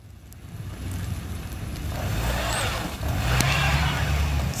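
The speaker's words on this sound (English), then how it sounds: "He's trying to see if he can reverse, move the car." A car stuck in heavy snow revs its engine while trying to reverse, the motor rising in two surges with a brief dip between, close by against outdoor wind noise.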